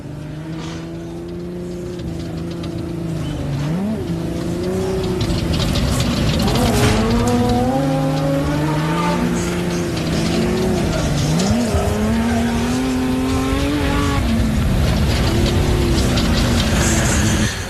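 Falk side-by-side off-road race vehicle running on a dirt track at the Loveday 400 in a 4x4 adventure park, its engine droning and revving with rising and falling pitch, with tire scrub, loud and continuous throughout.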